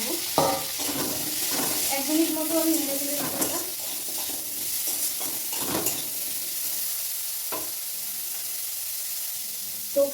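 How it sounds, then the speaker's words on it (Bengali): Capsicum is stirred in hot oil in a kadai for a vegetarian paneer dish, with a constant hissing sizzle, intermittent scraping strokes and a faint voice murmuring briefly near the start. "আমি ক্যাপসিকামটা দিয়ে দিলাম একটু হালকা করে গরমের মধ্যে নেড়ে চেড়ে"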